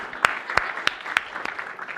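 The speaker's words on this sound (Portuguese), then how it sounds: "Uma salva de palmas para ele" Sparse applause from a small audience at a lecture: a handful of separate, fairly quiet claps spaced irregularly over a couple of seconds.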